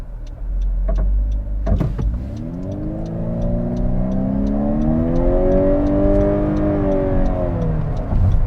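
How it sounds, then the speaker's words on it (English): A 2021 Honda CR-V Hybrid's gas engine turns over and settles into a steady running hum, with a rising tone and faint rhythmic ticking throughout; no talking. "As you guys can hear, the gas engine kicked off."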